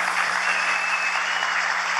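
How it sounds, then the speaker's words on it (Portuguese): A crowd applauds a Brazilian sports minister at a government event: dense, steady clapping for about two seconds with no voices over it. "eu queria lhe cumprimentar e pedir uma salva de palmas ao melhor ministro do esporte da história, que é o nosso querido deputado Rolando Silv"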